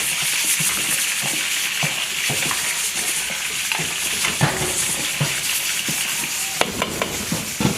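Food simmering in a pot for a Filipino-style dish is stirred with a utensil, making steady scraping and clinking under a continuous sizzling hiss, close and fairly loud, with no talking.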